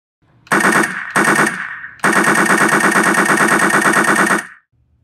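A laser tag battle rifle fires rapid electronic machine-gun bursts, two short volleys followed by a longer sustained burst, loud and close with no talking.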